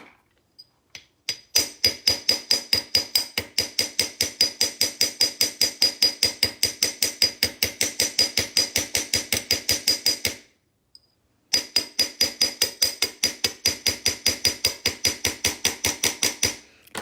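A ball peen hammer strikes metal stamps in a long, steady run of sharp, ringing metallic blows, loud and close. The run breaks off once for a moment, then resumes at the same quick pace.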